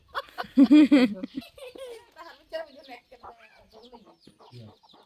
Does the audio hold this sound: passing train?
no